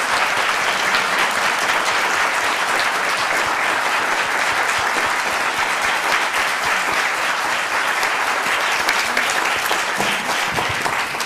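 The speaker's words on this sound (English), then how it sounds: "Let's please give them a wonderful round of applause." A symposium audience gives the panelists a sustained round of applause, dense and steady clapping from a full room that carries on evenly for over ten seconds.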